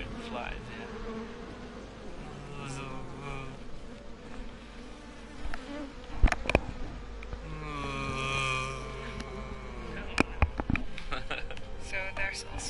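Flies buzzing in the video game Everybody's Gone to the Rapture, a close, wavering insect drone that rises and fades through the scene, with intermittent clicks and a person talking over it.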